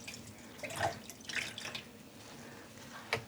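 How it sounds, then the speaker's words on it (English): Excess water drips and trickles as dyed alpaca boucle yarn is gently squeezed by hand, making a few soft, close splashy drips over quiet background. "I'm just going to squeeze out some excess water."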